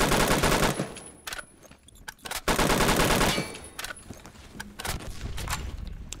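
In a Roblox video game, a gun fires sniper bolts as loud rapid bursts of automatic-sounding gunfire. Several volleys are separated by brief pauses, with scattered single shots between them.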